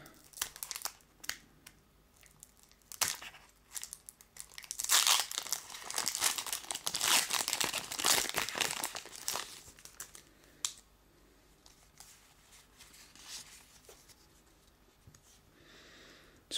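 Foil wrappers of Pokémon Jungle booster packs crinkle and tear nearby. Scattered crackles build to a loud, sustained burst of crumpling, then thin out to occasional rustles.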